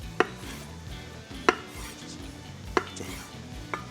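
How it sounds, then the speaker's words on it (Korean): A knife chops a block of tofu on a cutting board in a kitchen, four sharp, separate knocks spaced about a second apart against a quiet background. "두부 1모 좀 잘잘하게 썰거나 좀 크게 썰으셔도 되고요"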